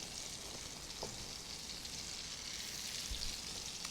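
Shrimp laid in a single layer in a hot pan, giving a steady, dense sizzle that holds evenly throughout, close and fairly loud with no voices over it.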